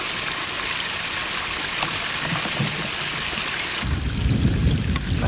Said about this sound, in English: There's quite a bit of water flowing.